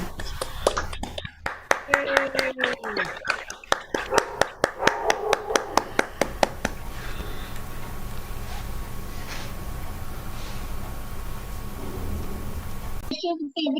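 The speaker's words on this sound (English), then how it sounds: "I request all of you to unmute yourself and just clap for this wonderful day." Participants in an online meeting clap together over the call, a dense run of sharp claps that thins out to a few scattered ones, with voices talking before and after.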